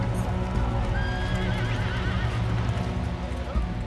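Horses come ashore through the surf in a dramatised beach landing: close loud whinnying and hoof clatter over a constant rumble of waves and commotion, with voices mixed in.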